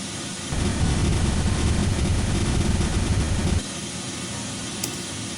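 A cat meow sample run through a granulator becomes a dense, steady wash of white noise, loud with a heavier low rumble for about three seconds, then easing to a thinner hiss.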